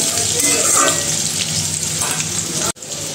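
Potatoes frying in hot oil for a home-cooked vegetable dish produce a loud, steady, close sizzle throughout, which cuts out abruptly for a moment near the end.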